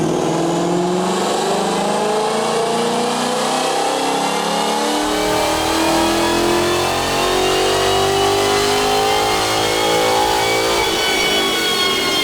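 A 2013 Mustang GT V8 fitted with a Boss 302 intake manifold, cold air intake and tune revs hard, its engine note climbing steadily and loudly over several seconds without any voices.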